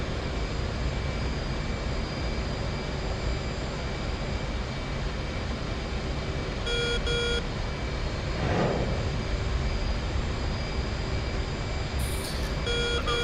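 An F/A-18C jet takes off in the flight simulator DCS, a steady loud engine roar with a broad constant rush that holds throughout, joined by a few faint electronic beeps near the end.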